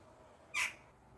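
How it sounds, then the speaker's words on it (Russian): A crow on a balcony gives one short, harsh squawk close by, a single burst that rises suddenly out of near silence and fades almost as quickly. "Пойду сейчас ворону выгоню с балкона."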